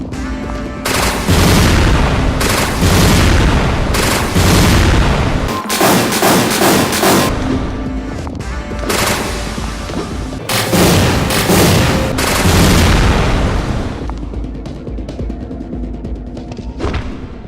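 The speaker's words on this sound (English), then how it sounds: "that took me 10 shots from the Charged Particle Rifle to take down Morpheus" Charged Particle Rifle fire in the game Resident Evil: Dead Aim, loud heavy blasts repeating every second or two across a dense, booming game soundtrack, with several bright crackling bursts standing out.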